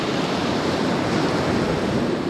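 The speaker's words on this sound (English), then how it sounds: "Some nice waves today." Ocean surf rolling and breaking at Kitty Hawk beach on the Outer Banks, a steady, loud wash of broadband noise with continuous roar and some wind buffeting, no voices.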